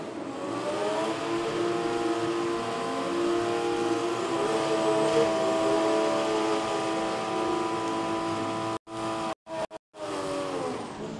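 Super 6 two-wheel-drive and four-wheel-drive race cars roll onto the track for a qualifying session, one loud, sustained engine drone holding a steady pitch up close before cutting out in several abrupt gaps near the end.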